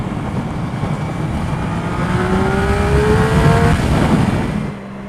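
A 2015 Triumph Speed Triple inline-three motorcycle engine revs up with a rising, raspy exhaust note that climbs in pitch, peaks loudly, then drops back as the throttle eases.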